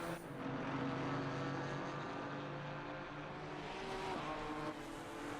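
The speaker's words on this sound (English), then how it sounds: "just watch these two Porsches through the Porsche chicane" Porsche GT4 race cars in a GT4 race at Zolder snarl through the Porsche chicane, a steady, loud engine roar with shifting pitch as they brake and accelerate, heard alone.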